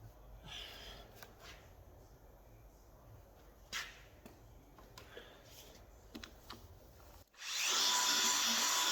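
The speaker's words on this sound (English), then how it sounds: "It does need a little bit more polishing, so let's give that another going over." A machine polisher works over scratched car bodywork on a Fiat Coupe, a steady broadband whir starting near the end and running loud and close for the last second and a half after quieter handling noises.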